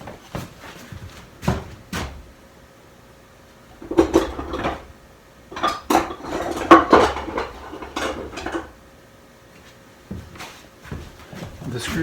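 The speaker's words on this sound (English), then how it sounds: "I'm going to take off the handle, which is held on by screws." Screws are backed out of the handle on an old oak machinist's box: scattered metallic clicks, scrapes and taps of screwdriver and hardware come in short irregular bursts, close up, with stretches of quiet between them.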